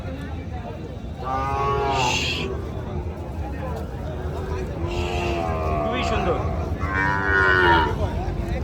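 Sahiwal bulls and calves at a cattle market in Panchbibi low loudly in three long, drawn-out moos spread through the moment, with people talking nearby between and under the calls.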